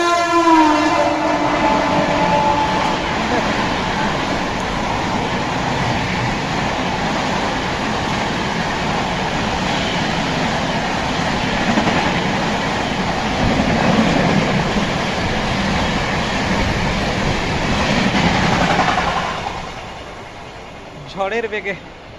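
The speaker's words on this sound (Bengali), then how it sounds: "এই যে একটা ট্রেন যাচ্ছে দেখবেন, দুর্দান্ত ট্রেন যাচ্ছে দেখুন কত স্পিডে" An express train roars through a station at high speed, a loud sustained rush lasting most of the clip with a horn near the start, then dropping away quickly, with some voices around.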